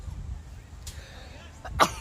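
A single short sneeze bursts out near the end after a quiet stretch, close to the microphone, with faint breathy sounds before it, during an under-13 soccer match.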